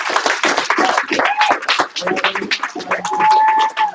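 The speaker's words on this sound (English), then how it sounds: "One more big round of applause." Applause from a school award ceremony audience, scattered claps mixed with cheering voices, excited calls and chatter, fairly loud and busy throughout.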